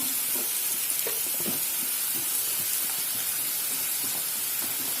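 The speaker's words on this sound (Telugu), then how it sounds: "2 టమాటాలు చిన్న కట్ చేసి వేస్తున్నాను." Chopped tomatoes frying in a pan for spicy pepper chicken give a steady, close sizzle and hiss with soft stirring scrapes throughout.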